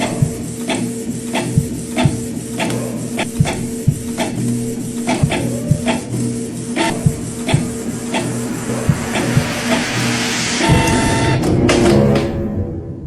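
A printer runs through a print job, with rhythmic mechanical ticks and clicks over a steady motorized whir that swells into a louder grinding feed near the end before cutting off.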